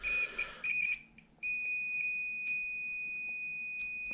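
A multimeter beeping during a continuity test on a replacement oven heating element for a Bush electric cooker, with a steady high electronic tone sounding for a few seconds after some brief earlier beeps.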